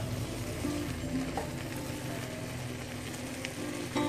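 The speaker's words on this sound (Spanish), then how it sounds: "y nuestro pollo. Y vamos a mezclar todo esto." Chipotle chicken stew being stirred and mixed in a hot pan, with a steady sizzle and frying crackle that runs throughout, moderately quiet and close, with a few soft scrapes of stirring and no talking.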